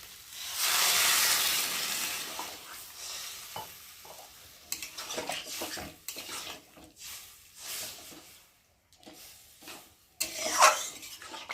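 Boiled potato and taro are stirred with spices and water in a pan, giving a loud sizzling hiss at first, then scraping spatula strokes and bursts of frying that fade in and out between quiet gaps.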